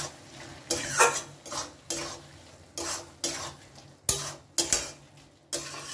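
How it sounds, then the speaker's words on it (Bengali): Chopped bottle gourd being stirred in a pan over a medium gas flame, with no other liquid added, so the cooking water dries off: repeated scraping strokes of a spoon against the pan, close and fairly loud, with a faint sizzle between them. "গ্যাসের ফ্লেমটা আমি মিডিয়ামে রেখে খুব ভালো করে এটাকে নেড়ে নেড়ে এই জলটা শুকোবো"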